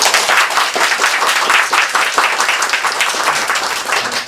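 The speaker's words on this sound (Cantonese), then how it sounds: "咁我哋都即係俾啲掌聲。" Audience applause after a lecture on the I Ching, a dense, steady wash of many hands clapping throughout, loud and sustained with no clear pauses.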